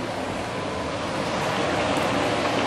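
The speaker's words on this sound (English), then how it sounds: "let it simmer for under a medium heat for about 4 to 5 minutes" Luffa stew simmers in a pot over medium heat, giving off a steady, even hiss of gentle bubbling that runs unbroken from start to finish, with no voices.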